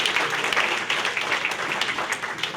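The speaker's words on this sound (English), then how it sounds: "For anybody who's serving this military, let's say thank you to them tonight as well. With a big round of applause." Diners at a chamber of commerce installation dinner give a round of applause for military servicemen, dense continuous clapping from a full room, loud and steady for the whole stretch.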